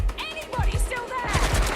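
Gunfire bursts in the video game Watch Dogs Legion, a run of low thumping shots mixed with game voices and effects, fairly loud throughout.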